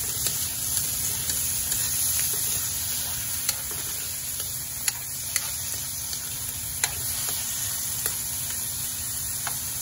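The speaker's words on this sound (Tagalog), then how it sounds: "lutuin lang natin konti yung kamatis." Tomatoes sauté in a pan of chicken liver, heart and gizzard adobo, giving a steady close sizzle with occasional light ticks and scrapes from stirring. No voices.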